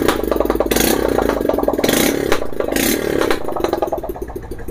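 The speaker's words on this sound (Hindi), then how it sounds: "अब स्टार्ट कर दिया बाइक को, साइलेंसर खुला है।" Honda Livo motorcycle engine started and idling with its exhaust silencer removed, a loud, close, rapid clattering putter with repeated short revs and bursts.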